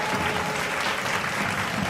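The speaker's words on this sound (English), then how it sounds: "No, that was applause" Steady applause from a crowd watching a live Barça versus Athletic Club football match, a dense continuous patter of clapping held at an even level throughout, with no talk over it.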